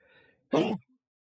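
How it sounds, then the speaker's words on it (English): A single short, sharp sneeze bursts out loudly and close up, preceded by a faint vocal lead-in and followed by silence. "There's a sneeze coming on."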